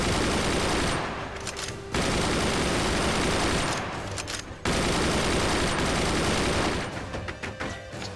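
Weapons in the artillery-fort game Forts fire in heavy sustained barrages, a loud, dense roar of shots and impacts broken by two brief lulls before resuming.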